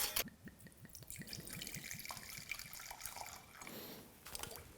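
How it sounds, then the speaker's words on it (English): Rum being poured from a bottle into a measuring cup in a home kitchen, a close liquid glug and trickle with a rhythmic series of gulps early on, steady and fairly quiet with no talking. "So let's get a 1/4 cup of rum."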